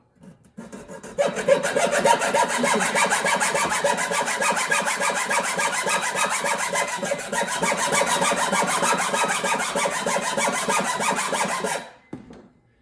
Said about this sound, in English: So this is the reason I needed the hacksaw.